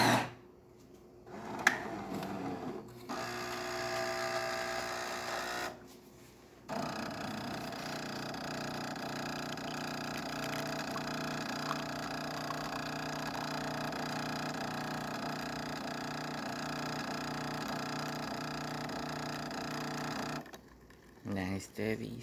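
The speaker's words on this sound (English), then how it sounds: "And now we can do our shot of espresso." A Jura E6 espresso machine, tested after a clogged filter, brews a shot of espresso with a steady mechanical pumping hum and brief clicks and pauses at the start and end of the cycle.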